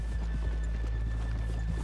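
Horse hooves clip-clop steadily in the video game Red Dead Redemption 2, a quick, even rhythm of soft hoofbeats over a constant low hum.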